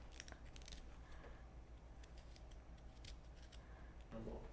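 A knife cuts away wrinkly vegetable skin in a home kitchen while Gujarati dal is being prepared, giving quiet, crisp snipping cuts repeated at a loose rhythm against a soft room background.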